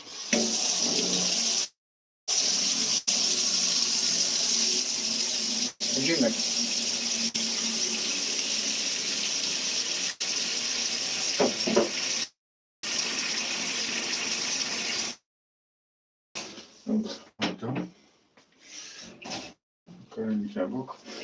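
Kitchen tap water runs steadily into a sink or vessel while baking a Karpatka cake, a broad continuous gush broken by brief stops and restarts, with a person talking over it.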